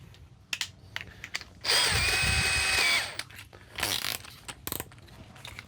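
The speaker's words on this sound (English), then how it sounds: "So I'm drilling a 1-inch hole." A power drill whines steadily for about a second, boring a one-inch hole in a box van, with scattered clicks and handling knocks before and after.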